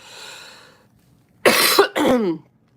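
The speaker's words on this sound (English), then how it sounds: "Sorry for coughing" A faint breath, then a brief pause before two loud, harsh coughs in quick succession, close by.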